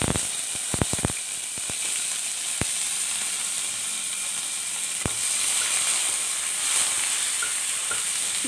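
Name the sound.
neem leaves sizzling as they fry in oil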